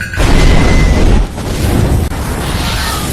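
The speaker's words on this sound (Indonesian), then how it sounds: "bis yang dinaiki tadi meledak." A bomb blast on a bus in a film is heard as a loud, close boom that swells into a sustained roaring rumble with debris noise. It stays dense and heavy for a few seconds and there are no voices.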